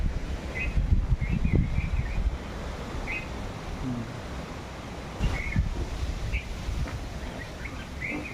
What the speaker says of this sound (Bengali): আবার ঝোড়ো হাওয়া বইতে শুরু করেছে আবার বৃষ্টি নামবে